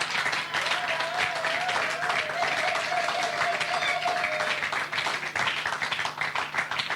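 Church congregation clapping in praise of the Lord, a steady dense wash of applause filling the room throughout, with a faint sustained tone and some voices mixed in underneath.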